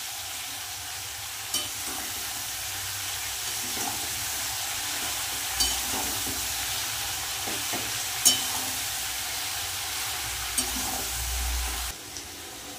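Mustard, green chili and garlic paste being stirred into shrimp and taro stolons frying in a pan, giving a steady, moderate sizzle with occasional soft spoon scrapes and clinks throughout.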